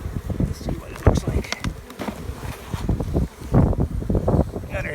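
Honey bees buzz around open hive colonies outdoors on a windy spring day, a steady near swarm drone mixed with gusting wind noise on the microphone, while muffled speech comes and goes.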